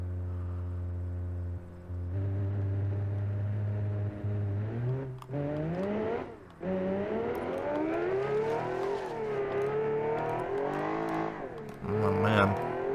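A classic Italian sports car's high-revving, naturally aspirated engine roars in a driving game, pitch sliding up and down through gear changes with steady, loud harmonic drone throughout and a brief dip midway.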